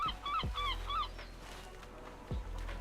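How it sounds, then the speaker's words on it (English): A seagull squawks near a lakeside shore in Lord of the Rings Online, a few loud harsh honking calls in a quick burst, then thuds and ambient game noise. "Oh god, the seagull."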